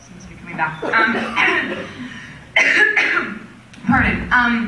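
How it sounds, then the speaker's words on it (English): A man's dry cough, a few rough hacking bursts and throat clearing spread across the moment at close range, mixed with brief vocal sounds. "my cough's coming back"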